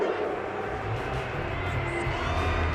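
Dense stadium crowd in an American football video game voicing displeasure at a penalty flag, a continuous roaring wash of boos and murmurs.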